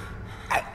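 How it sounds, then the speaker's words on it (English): A single short sneeze bursts out near the end of a quiet stretch, close to the microphone, preceded by a faint intake of breath. "whenever I get nervous, I sneeze"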